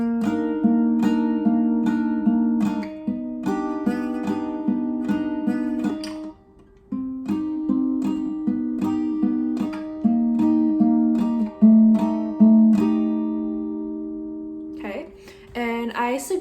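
Acoustic guitar playing the bridge section of a pop song, a plucked fifth string followed by strummed chords in a steady repeating pattern, clear and close, with a short pause midway and a few scratchy strums at the end.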